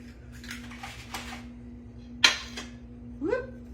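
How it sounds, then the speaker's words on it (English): Eggs cracked one after another into a bowl of wet bread for egg bread dressing: a sharp crack near the middle and a brief clink later, over a steady low hum in a quiet kitchen. "I'm gonna put 5 eggs in here."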